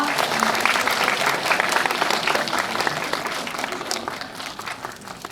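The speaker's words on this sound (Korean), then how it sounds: "다 같이 저희 박수 한번 부탁드릴게요" A cinema audience at a stage greeting for the film The Villainess at CGV Wangsimni bursts into sustained, dense applause that gradually thins and softens toward the end.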